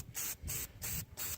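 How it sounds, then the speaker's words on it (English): Four short bursts of aerosol carburetor cleaner hissing close up into an outboard motor carburetor, evenly spaced with brief pauses between them. "Try to spray out all the little debris left over from the packing."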